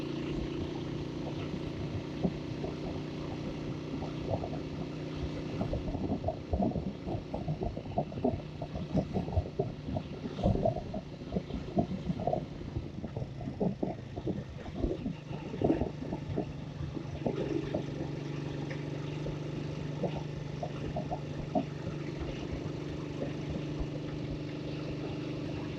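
A motorbike loaded with luggage side bags climbs slowly uphill in the rain near Muzaffarabad, its engine holding a steady, close drone that swells slightly in places for the whole stretch.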